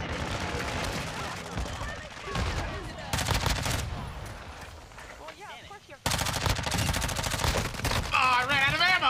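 Rapid bursts of automatic gunfire in the Call of Duty: Modern Warfare II video game, loud and near, with dense fusillades coming in waves and breaking off briefly, while a player talks over the shooting.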